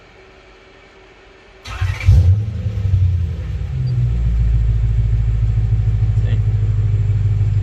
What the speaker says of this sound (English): Just turn the motor 2-3 times.